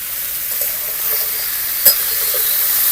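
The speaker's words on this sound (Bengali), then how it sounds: "এখন ভালো করে নাড়াচাড়া করব" Mixed vegetables for shukto fry in a pan, giving a steady hiss with a few soft stirring scrapes and one brief louder clack near the middle, heard close with no voices.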